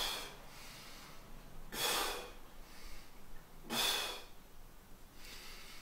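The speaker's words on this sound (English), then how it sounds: "Also notice the breathing. I'm timing the breathing" Someone breathes in time with a beginning shoulder exercise. Two distinct, fairly close exhalations or sniffs land about two seconds apart over a faint background hiss.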